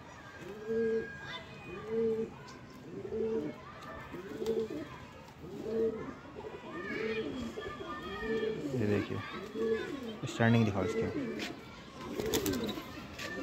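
Pigeons of a fine-bodied green breed coo in a steady repeated rhythm, close by, while someone talks over them in Hindi.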